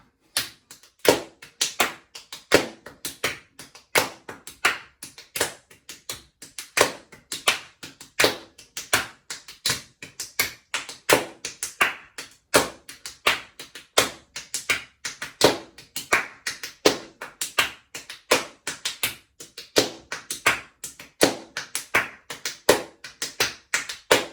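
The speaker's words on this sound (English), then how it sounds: "Come on everyone, let's all clap." Rhythmic reggae body-percussion hand clapping, a steady stream of sharp, close claps in a repeating syncopated pattern lasting the whole stretch, loud and alone with no talk over it.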